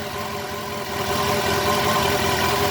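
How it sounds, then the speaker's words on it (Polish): A Yamaha FJR 1300 motorcycle engine idles steadily after throttle synchronisation, a smooth, even hum with faint tonal whine, close and constant with a slight rise in level midway. "Tak maszyna pracuje po ustawieniu."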